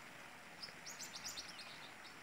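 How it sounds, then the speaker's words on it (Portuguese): Parakeets chirping in a neighbouring tree in a backyard, a faint scatter of short high tweets spread across a couple of seconds over quiet outdoor ambience. "Os periquitos cantando aqui na árvore vizinha."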